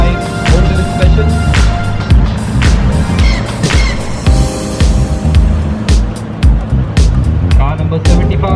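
A 1965 Honda Special vintage car drives past during a vintage car rally in India, its engine loud and steady among crowd noise, with talking and shouting throughout.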